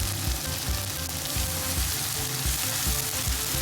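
Chopped tomatoes and tomato paste fry in butter in a pot, giving a dense, steady sizzle with soft bubbling pops, close and continuous throughout.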